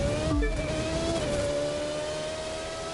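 Alpha Mark II mid-engine race car in The Crew 2 video game, its engine holding a steady loud drone with rising and shifting tones, a brief lower rumble early on, and no voices.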